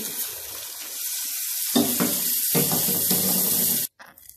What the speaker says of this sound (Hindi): तो अब मैं इसके अंदर पानी डाल देती हूँ।